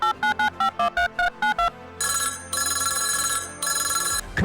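A telephone rings on a radio show: a run of eight short, evenly spaced electronic beeps, then longer bursts of loud, bright bell ringing.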